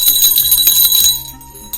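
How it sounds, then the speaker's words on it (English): Small bells on a belled anklet jingle brightly and continuously up close, a dense tinkling shimmer that fades out near the end. "for those of you who can hear it, you can hear this is a belled something"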